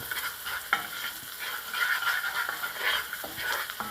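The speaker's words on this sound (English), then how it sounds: "can hear the sizzling of the butter and the leeks" Butter and leeks sizzle in a pot with a soft, crackling fry while a utensil stirs, producing a few light scraping taps; close, steady, with no talking.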